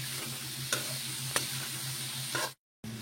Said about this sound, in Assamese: এনেকৈ ধুনীয়াকৈ ভাজি ল'লে হ'লে পিঁয়াজটো মজি যোৱালৈকে